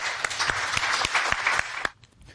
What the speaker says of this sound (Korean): 여러분들 큰 박수로 환영해 주십니다.